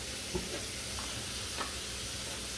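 Peanut butter fudge mixture being mixed in a bowl: a quiet, steady whirring hiss with a couple of soft knocks, close by and without talk.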